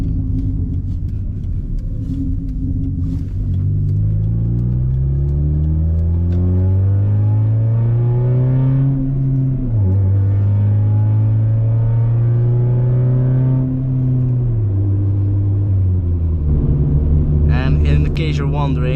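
A loud Hyundai Tiburon with a stock 2.0 engine drives under acceleration, its droning pitch climbing and dropping through gear changes, heard from inside the car with a voice talking over it.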